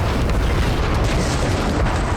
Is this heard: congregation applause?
no